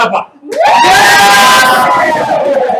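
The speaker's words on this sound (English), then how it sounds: "Go cheer him on, everyone." A game show studio audience bursts into loud, sustained cheering and whooping that swells quickly and holds at full volume for a few seconds.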